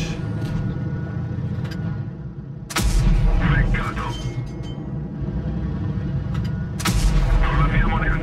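Heavy booming tank cannon shots in the mobile game World of Tanks Blitz, two loud blasts several seconds apart over constant engine rumble and battle noise.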